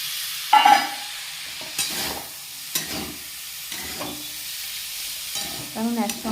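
Vegetables and potatoes stir-fried in mustard oil for a mixed veg fry, with a steady close sizzle and repeated scraping stir strokes of a spatula against the pan, no talking.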